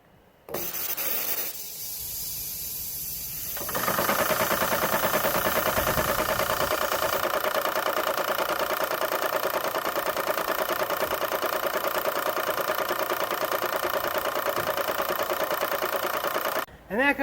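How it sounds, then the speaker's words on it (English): A small air compressor pump runs steadily for about thirteen seconds while inflating a wheelbarrow tire in a shop, a loud continuous motor drone with hiss, preceded by brief quieter handling noise and a voice. "let's see if I can get that thing to seal with this air pump."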